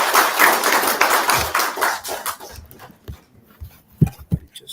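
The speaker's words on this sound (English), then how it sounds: "Just give him a big round of applause." Meetup attendees applaud indoors, a steady patter of many hands for about two seconds that thins into scattered claps and a few taps.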